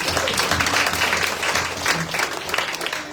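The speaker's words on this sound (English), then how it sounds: "Yeah, you should clap for that." An audience at a Sunday evening retreat in Margao applauds steadily, a dense wash of many hands clapping at close range for about three seconds with a faint voice or two underneath.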